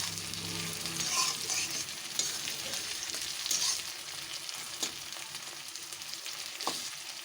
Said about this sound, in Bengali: টমেটোগুলো একটু ঘেঁটে নিই।